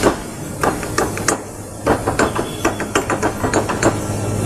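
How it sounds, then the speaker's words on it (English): A hammer strikes a metal spud on pump packing, a steady run of sharp close knocks over a constant mechanical hum. "We just give it a few whacks."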